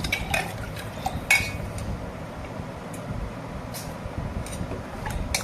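Mojito drinks for four being mixed in a glass jug, with repeated light clinks of a spoon or ice against glass and soft stirring scrapes over a steady low background hum.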